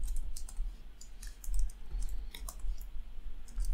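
Keys clatter on a computer keyboard, a quick series of close, crisp clicks and taps in an uneven rhythm with a low hum beneath.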